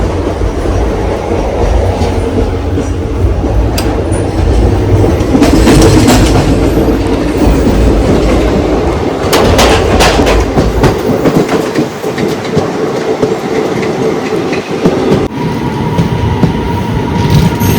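Loud, close rumble of a Mumbai local train passing Khar Road station, with rhythmic clattering wheels and occasional metallic squeals and rattles.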